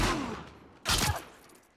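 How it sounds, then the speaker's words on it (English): A single burst of gunfire cracks from behind the player in The Last of Us Part II, a short sharp report following a fading earlier sound. "Someone's shooting me from the back."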